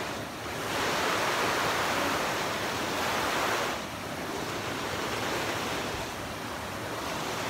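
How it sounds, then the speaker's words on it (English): River water rushing steadily over rocks in Iao Valley, Hawaii, a broad continuous roar that surges slightly louder in the first half, with no talking. "So here's the river."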